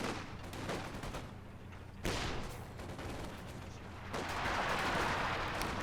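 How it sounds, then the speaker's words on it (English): Anti-tank gun shells firing in a World War II strategy game match, several muffled booms with rolling rumble between them, heavy distant impacts building into a louder sustained crackle of battle at the end. "Takes another anti-tank gun shell."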